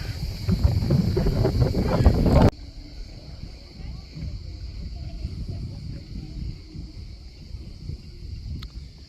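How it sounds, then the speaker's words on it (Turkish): Wind at a marina buffets the microphone loudly at first, then settles into a soft, steady breeze with faint rustling and occasional creaks from sail ropes. "Hafif bir rüzgar var."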